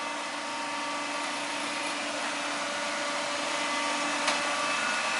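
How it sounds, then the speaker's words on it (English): Spindle of an Elliott 921 two-axis hydraulic surface grinder with an 8 by 20 inch permanent magnetic chuck runs steadily, a constant whirring drone with a faint high whine and one brief tick near the end. "Spindle's running."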